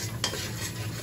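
Chowmein masala frying on a low flame, with a steady soft sizzle and stirring throughout, one brief scrape of a spoon against the pan near the start; no voices.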